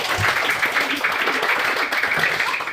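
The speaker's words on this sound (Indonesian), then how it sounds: "Baik, tepuk tangan teman-teman." Classroom of students applauding together at the end of a lesson, a brisk continuous patter of many small hands clapping at close range, fairly loud and even throughout.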